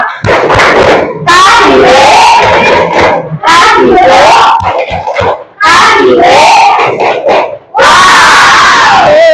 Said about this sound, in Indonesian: Untuk lebih tambah semangat kita tepuk wow ya.